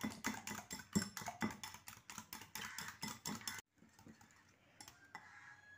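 Eggs beaten with a little salt in a bowl, a quick run of rhythmic clicking whisk strokes against the bowl for several seconds, then a sudden drop to faint scattered taps.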